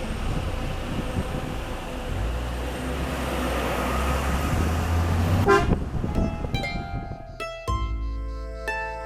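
A bus passes along a narrow road in the Sicilian village of Savoca, its engine rumbling steadily and close for several seconds, with a horn-like tone and a sharp change to quieter mechanical sounds near the end.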